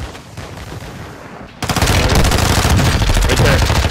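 Rapid bursts of automatic gunfire in a military shooter video game break out suddenly after a quieter stretch, loud and dense with overlapping shots.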